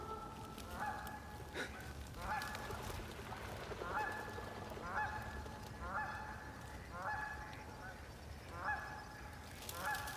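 Canada geese honk repeatedly in a loose series of calls, moderately distant, over a soft outdoor background in Bantam, Connecticut.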